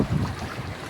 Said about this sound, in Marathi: बघा पाठीमागून किती मोठ्या लाटा आहेत बघा तुम्ही पाहू शकता